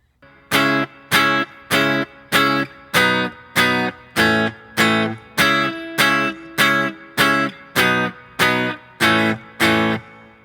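An electric guitar strums a chord progression, roughly a dozen evenly spaced, ringing strums with a slightly distorted, effected tone, played alone.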